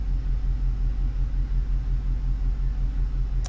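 A 2003 Chevy Avalanche engine with a vacuum leak runs steadily close by, a low continuous rumble and hum with no speech.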